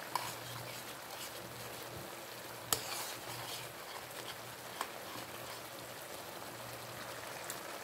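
Ground pork giniling simmering in a pot with stock cubes and oyster sauce, a faint, steady bubbling hiss with a couple of soft clinks of a utensil against the pot.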